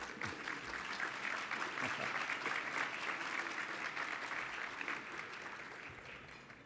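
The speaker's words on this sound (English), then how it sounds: "you can definitely clap for that" Audience applause at an award luncheon, a steady even wash of clapping from a seated crowd lasting several seconds and tapering slightly at the end, with no voices on top.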